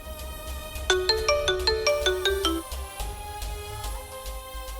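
A melodic electronic phone ringtone plays a rising, repeated chime pattern for a couple of seconds, then fades into softer tones, fairly close and clear with no talk over it.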